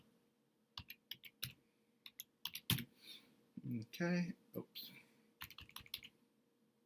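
Quick bursts of typing on a computer keyboard, close and crisp, with uneven clusters of keystrokes and short pauses between them, while a person briefly talks over the clicking.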